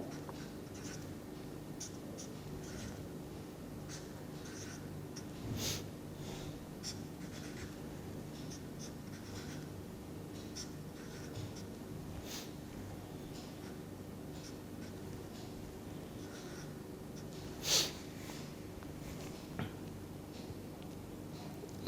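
Pen scratching steadily on paper while a chemical structure is written out by hand, soft and close with small taps and strokes over a quiet room hum.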